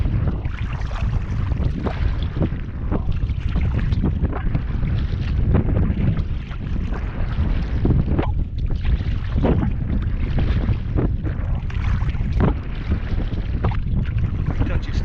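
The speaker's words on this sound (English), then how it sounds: "I'm trying to paddle due south, straight into the wind" Strong wind roars and buffets the microphone on open water while a packraft is paddled straight into it, a loud continuous rush with gusty surges throughout.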